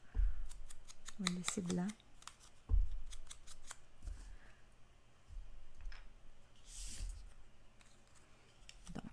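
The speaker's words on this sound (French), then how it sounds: "Je l'ai coupé avec mes ciseaux." Scissors snip through scrapbooking paper in a few short, crisp cuts close by, with someone talking over and between them in a quiet room.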